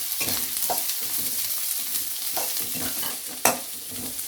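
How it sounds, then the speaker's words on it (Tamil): Onions fry in oil with mustard seeds and garlic cloves, a soft steady sizzle broken by repeated scraping stirs and one sharper clatter near the end. "வெங்காயம் நல்லா வதங்கட்டும்."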